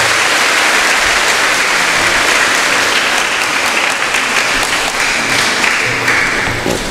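A church congregation applauds at a New Year's Mass, loud, sustained clapping from a large crowd filling the space evenly for several seconds without talk.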